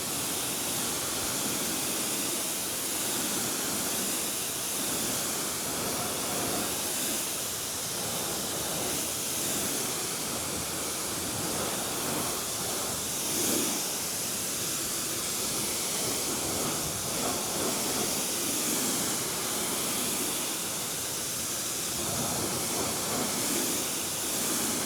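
Steady, broad hiss of a water spray rinsing wheel cleaner off a car wheel, running continuously and evenly without pause at moderate level.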